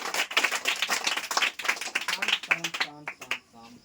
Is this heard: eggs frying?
no